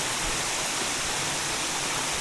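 A 20-metre waterfall on the small Ugrić stream deep in the Vlašić wilderness roars as a dense, even rush of falling water, loud and close, with no voices.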